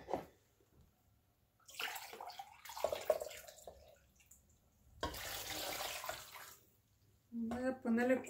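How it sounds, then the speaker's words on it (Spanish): Water pours from a tap into a pot to cover a pumpkin being cooked for atole, coming in a few splashing bursts of running water separated by quiet gaps, with a voice speaking near the end. "Voy a cubrirla de agua."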